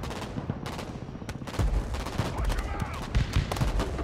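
Vehicle gunfire in the real-time strategy game Broken Arrow during a US Marine Corps urban battle, with dense bursts of automatic fire and heavier booms rattling continuously at mid distance.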